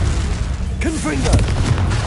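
A Confringo spell blast in the video game Hogwarts Legacy, a loud, booming burst heard under a voice.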